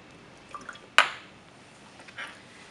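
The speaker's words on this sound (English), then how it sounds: "transfer the sodium carbonate solute into the beaker by washing it down from the clock glass using deionised water" Deionised water is squirted from a wash bottle to rinse sodium carbonate off a clock glass into a laboratory beaker: one sharp, close splash of liquid, with a few faint drips and trickles before and after in a quiet room.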